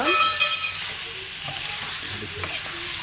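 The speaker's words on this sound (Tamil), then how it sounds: "சிக்கன் வந்துட்டு இஞ்சி பூண்டு பேஸ்ட்லேயே கொஞ்சம் நல்லா வதங்கட்டும்" Chicken sizzles steadily in hot oil with ginger garlic paste, a dense, continuous frying hiss with a few soft stirring scrapes and no voices.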